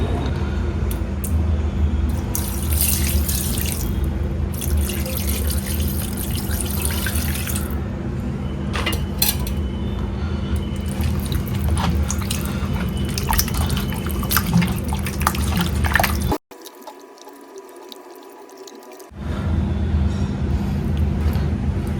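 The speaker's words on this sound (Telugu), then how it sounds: "ఫస్ట్ అయితే చికెన్ కడుక్కుంటా శుభ్రంగా" Raw chicken being washed clean under a running kitchen tap, water splashing and dripping steadily for most of the time, cutting off briefly before resuming near the end.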